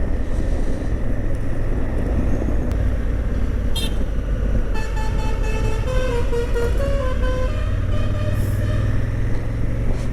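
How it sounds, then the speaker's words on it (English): Loud highway traffic rumble on the road to Goa at Christmas weekend, with vehicle horns, one a musical horn playing a short melodic tune of rising and falling notes, plus other honks. "Did you listen to that horn? Those musical horns."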